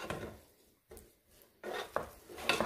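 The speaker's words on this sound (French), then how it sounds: "Je les mélange. Je mélange bien, doucement, délicatement." A spoon gently stirring a salmon marinade with lemon zest and dill in a bowl, soft scraping and light clinks in short bursts separated by quiet pauses, close and fairly faint.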